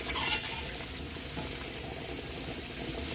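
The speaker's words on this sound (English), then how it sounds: "I'm gonna go ahead and throw these mushrooms in there. Let this cook for about a minute." Mushrooms cook in oil in a hot pan, producing a continuous soft sizzle with faint stirring for a few seconds.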